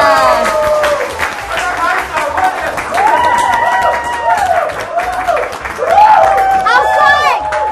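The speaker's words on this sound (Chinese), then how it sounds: "热情掌声！" An audience claps and cheers at a year-end charity gathering in a rural area, lively applause with scattered shouts and voices calling out over the clapping throughout.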